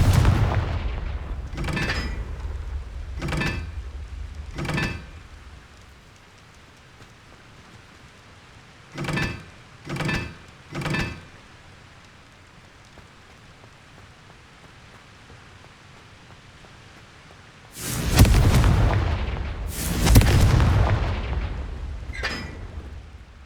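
Confringo blasting spells cast in Hogwarts Legacy go off as a series of sharp, booming explosions, several spaced bursts followed by two heavier, longer blasts near the end, with quiet gaps between them.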